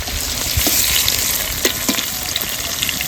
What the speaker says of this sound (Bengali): তো পনিরগুলো একে একে ভেজে নেব।